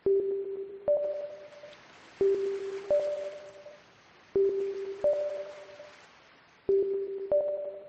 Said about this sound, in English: Tap to ping the ocean floor.